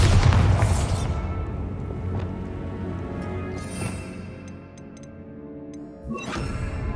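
Bombarda spell blast in Hogwarts Legacy, a loud booming explosion at the start with a deep rumbling tail and debris-like crackles, followed by scattered ticks and a second whooshing burst near the end.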